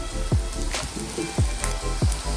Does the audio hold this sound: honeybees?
no